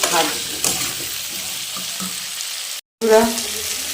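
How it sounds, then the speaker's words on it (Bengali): Food sizzles and fries in a pan with salt and turmeric, a steady crackle broken by a brief silence near the end, plus a few faint clinks. "এই যে ভাজা ভাজা হয়ে এসছে"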